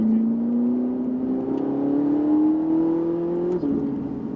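A Ferrari 458 Italia on the La Ferté-Gaucher race circuit, heard from inside as the engine drone climbs steadily in pitch under acceleration, then drops briefly at a gear change near the end.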